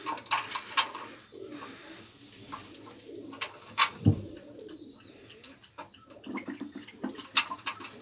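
Pigeons gathered for an evening feeding, with soft repeated cooing and scattered calls over a faint watery background, close by and moderate in level.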